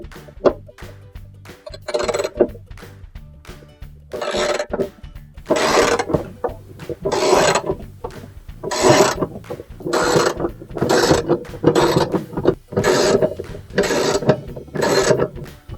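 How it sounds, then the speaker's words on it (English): A 10mm socket wrench backs bolts out of a washer transmission. Close, repeated ratcheting bursts alternate with brief pauses in an uneven rhythm, with faint mechanical clinks between them and no talk. "We'll need our 10mm socket wrench to remove the bolts."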